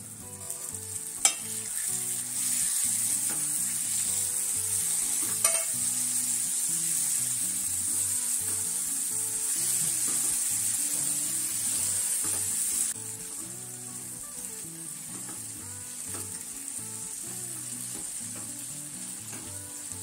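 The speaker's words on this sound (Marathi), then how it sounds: "आता आपण यात कोळंब टाकायचे आहे।" Tiny shrimps fry in a curry masala, giving a steady close sizzle with scraping stirs and a few sharp clinks of a utensil against the pan throughout.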